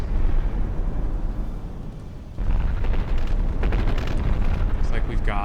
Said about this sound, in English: The plunging fire from the Constantine really starting to take a cumulative toll. Oh man, these missiles also just nailing turret caps.